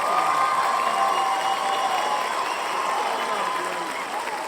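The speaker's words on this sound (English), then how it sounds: "Let's get a little cheering for Frankie." A crowd cheers and shouts in a steady dense roar with scattered applause, the mass of voices staying loud throughout at a New Year celebration.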